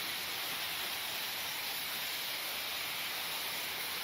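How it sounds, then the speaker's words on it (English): Steady, loud-filled hiss of a steam locomotive's steam chest venting in Train Simulator Classic, a continuous broadband rush with no breaks over the whole stretch. "that's the steam chest venting its steam out then"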